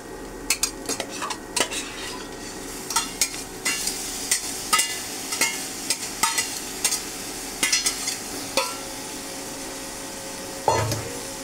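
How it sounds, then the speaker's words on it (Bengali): Boiled noodles are tossed with fried mushrooms in a pan, giving a soft sizzle under repeated scraping and clacking strokes of a utensil against the pan at an irregular rhythm, close and moderately quiet. "মাশরুম ভাজা শেষ, এখন আমি নুডলস দিয়ে দিব।"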